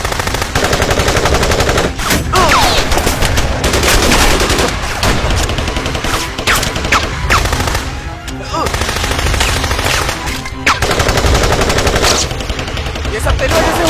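Sustained bursts of machine-gun fire and gunshots ring out almost nonstop in a loud firefight, with brief lulls between volleys and a faint voice or two underneath.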